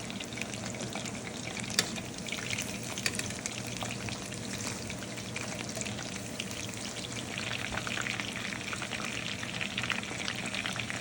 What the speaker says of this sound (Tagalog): Para maging crunchy, kailangan double fry.